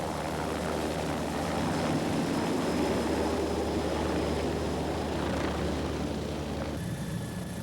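A helicopter flies toward an isolated lighthouse between Newfoundland and Labrador, its steady rotor and engine drone running loud and unbroken throughout, with no talking.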